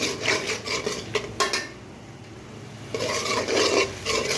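Teasel gourd (kakrol) sautéed with chili and turmeric: steady scraping and stirring of a spatula against a pan, with soft sizzling and brief utensil clinks, close and moderately loud, no voices.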